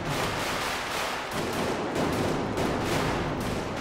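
An AA-12 automatic shotgun in the VR game Hot Dogs, Horseshoes & Hand Grenades fires in rapid, loud bursts, a dense close barrage of blasts with only a short pause between.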